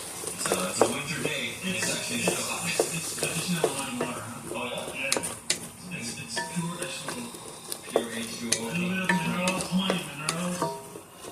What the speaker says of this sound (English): And we just stir that in.